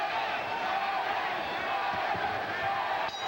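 Boxing arena crowd at a heavyweight fight, a continuous loud roar of cheering and shouting throughout, with a brief sharper burst near the end.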